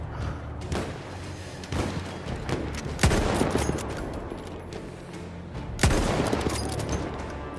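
Battlefield 1 gunfire rattles in bursts of rapid shots, broken by a few heavy, loud impacts. No voices can be heard.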